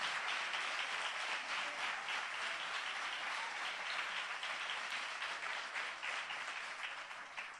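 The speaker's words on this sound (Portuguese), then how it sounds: "Aplauda o Senhor o mais forte que você puder." A church congregation applauds the Lord during a Portuguese-language worship service, producing steady, dense clapping at a moderate distance that carries evenly throughout and tapers slightly at the close.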